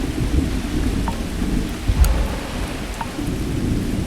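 Thunderstorm on a moon in the space game Starfield: heavy rain pours steadily with low rumbling thunder rolling underneath, loud and close, with a few sharp drip-like ticks.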